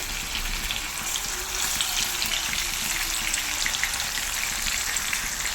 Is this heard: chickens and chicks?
no